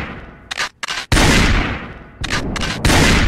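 Gunfire in the video game Project Zomboid: several sharp, loud shots in quick bursts, the later ones running into a longer, echoing volley.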